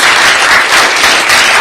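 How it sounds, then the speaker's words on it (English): A large audience at a business school awards event in Goa applauds loudly and steadily, a dense, close wash of clapping filling the whole moment without any voices. "Would you like to give this country a big round of applause?"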